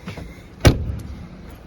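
A single solid thunk as the door of a 1986 Mercedes-Benz W123 230e, its rubber seal no longer intact, is pushed shut, close and brief, with a faint rattle trailing off.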